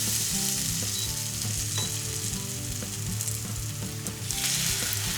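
Potato hash brown patties frying in oil in a pan, a continuous loud sizzle with crackling pops and occasional clinks of a utensil, close up and with no talking.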